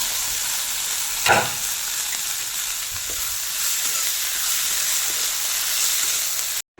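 Lehseti greens frying in a pan, a steady bright sizzle throughout with a single stirring clatter early on, close and fairly loud, no voices.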